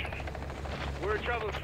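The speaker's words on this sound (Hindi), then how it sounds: "ये एक दूसरा हेलीकॉप्टर है जिसमें हसन है" A helicopter in the shooter game Call of Duty: Modern Warfare 2 gives a steady rotor drone under game effects, while someone talks over it at moderate level.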